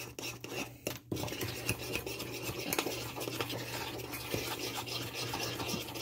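Dark Kool-Aid prison drink being stirred steadily for a long time, a continuous close scraping and swishing of a utensil in the mixture with a steady low hum underneath.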